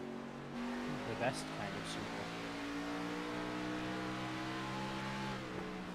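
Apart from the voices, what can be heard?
Toyota Supra race cars chasing a Mustang in iRacing video game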